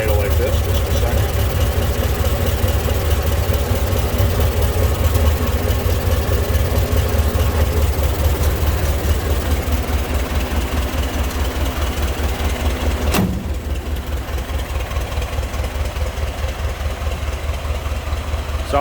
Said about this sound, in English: Sounds like a Model T. Very distinct engine noise.